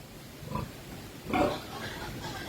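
A farm pig, a hefty 92-kilo animal, gives a couple of short, moderately close oinks and grunts, the second louder, against quiet background noise.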